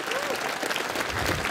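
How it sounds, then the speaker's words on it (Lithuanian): An audience applauds Andrius Žiurauskas during a Lithuanian talk-show conversation, a steady, dense wash of clapping that stays even for the whole short stretch. "Aplojam Andriui Žiurauskui. Garsiais plojimais."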